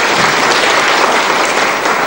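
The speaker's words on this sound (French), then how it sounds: "vous pouvez les applaudir" Dense, steady applause from a large audience for contestants at the Dictée des Amériques spelling competition, loud and continuous throughout with no voices.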